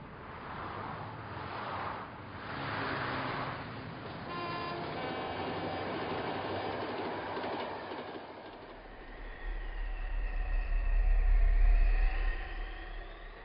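A train rolls along the rails with a steady rumbling wash, metallic tonal squeals drifting in midway and a heavier low rumble building near the end, no voices.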